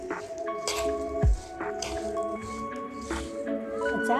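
Green chili pickle is mixed with turmeric, salt and coarsely ground spices, giving wet squishing and sticky squelches at an uneven pace, close by, with a louder squish midway over faint music.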